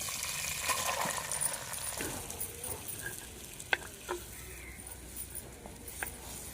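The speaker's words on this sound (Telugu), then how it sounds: "అదే నూనెలో తరిగిన ఉల్లిపాయ ముక్కలు వేసుకుందాం" Chopped onions are added to hot oil in a pan and sizzle with a steady hiss, punctuated by a few sharp clinks and stirring taps from a utensil, close by and moderately quiet.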